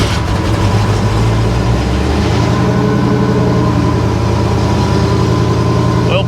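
A 1956 Chevy engine idles close by in a steady, loud, low rumble that holds an even throb throughout with no voices.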